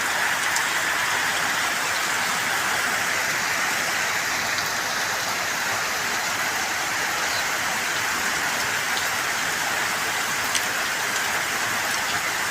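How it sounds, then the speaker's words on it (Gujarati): Steady, dense rainfall hisses evenly throughout, a continuous wash of drops with no voices. "પછી ચાલુ થઈ ગયો વરસાદ"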